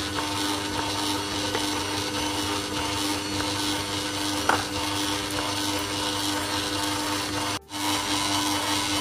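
A stand mixer runs steadily, kneading sweet bread dough, a loud continuous motor whir and churning hum that holds for several seconds, with one brief dip near the end.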